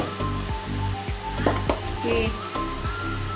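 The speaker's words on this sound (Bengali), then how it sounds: "কষাতে কষাতেই এর মধ্যে আমি দিয়ে দেব" Cumin powder sizzles in hot oil while a spiced cauliflower and potato curry fries, a steady crackling hiss broken by several scraping stirs of a spatula against the pan.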